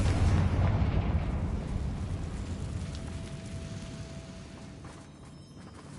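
A Confringo blasting spell from the Hogwarts Legacy video game goes off inside a building held by loyalists: one loud, close burst that fades into a long, fading rumble.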